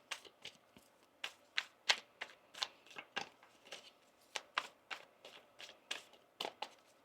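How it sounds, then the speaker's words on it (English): Tarot cards are shuffled in quick, steady riffling bursts, a rapid series of crisp flicks and taps close by, with no voices. "let's get one more shuffle here"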